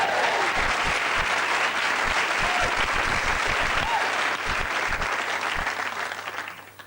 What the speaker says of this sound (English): a big round of applause for the one and only